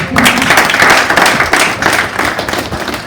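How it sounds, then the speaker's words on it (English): Loud audience clapping for Dr. Ila Devya at a Handloom Day conference, close and lively with distinct hand claps in a dense crowd, swelling and easing slightly over a few seconds. "I think we could clap a little louder for her."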